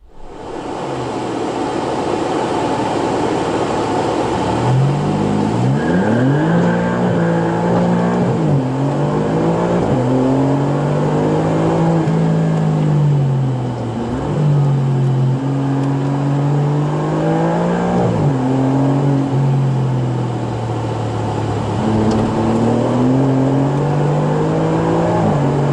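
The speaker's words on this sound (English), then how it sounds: "we're going to do a burnout off the line" A car's engine roars loud and close through a long burnout off the line, its pitch climbing and dropping in repeated revving surges over a constant hissing, whirring wash.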